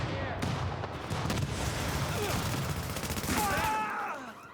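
Video game gunfire at a police station, rapid bursts of shots and a rattling barrage filling the scene, with a voice speaking partway through.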